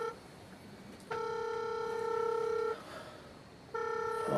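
A mobile phone rings with a steady electronic tone in two bursts separated by a short pause, clear and fairly close in a quiet room.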